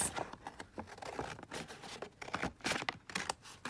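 Scissors snipping through paper while it is trimmed into pieces for flower fairy ephemera, a close run of uneven crisp cuts and rustles with brief pauses, no voices.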